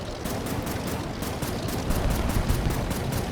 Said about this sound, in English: they are shooting at me as well